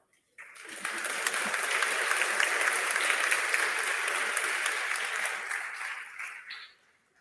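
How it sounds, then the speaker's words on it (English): An audience at an undergraduate diploma ceremony applauds a graduate: dense, even clapping starts abruptly, holds steady for several seconds, then thins and stops. "it's okay to applaud"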